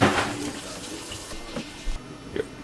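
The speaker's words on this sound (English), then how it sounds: "I'm going to start adding cold water" Cold water running from a kitchen tap, a steady close rush and splash with a few small knocks, heard alone without talk.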